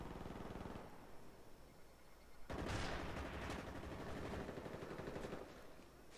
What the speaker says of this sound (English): I'll try a 3-round burst now.